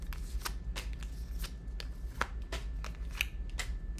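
Tarot cards being shuffled during a reading, a series of quick crisp riffling bursts in an irregular rhythm, close and fairly quiet, with no talking.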